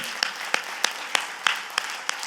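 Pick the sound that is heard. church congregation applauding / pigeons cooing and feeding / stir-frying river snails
church congregation applauding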